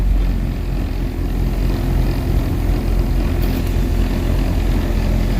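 A Ford EcoSport with an electrical fault and a check-engine warning, its engine running at a steady, loud idle with a dense low rumble throughout and no voices.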